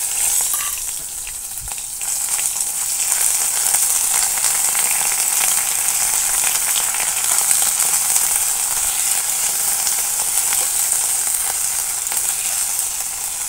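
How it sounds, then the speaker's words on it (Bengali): Ground ginger paste frying in hot oil for a fish curry, a loud, dense, continuous sizzle that holds steady and close the whole time with no talking. "আদাটা ভেজে নিয়েছি"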